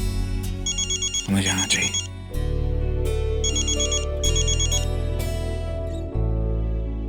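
A telephone rings with a repeating electronic ringtone over a dramatic television-serial music bed, during a Hindi family drama scene; a voice speaks briefly over it and the ringing recurs in bursts.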